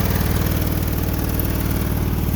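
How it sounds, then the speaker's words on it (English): A cold-started engine at a home idles roughly and loudly, a steady close chugging drone with an uneven low pulse throughout and no talking. "You can hear the engine bogged down now"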